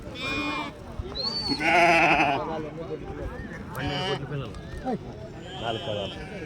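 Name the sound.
sheep bleating at a sheep market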